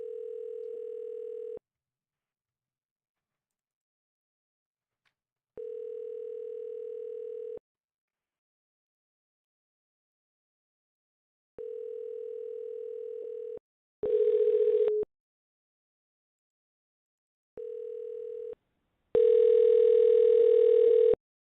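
A telephone dial tone sounds in regular on-off beeps while a call is placed from a phone, with a couple of harsher buzzy bursts between them and silence in the gaps.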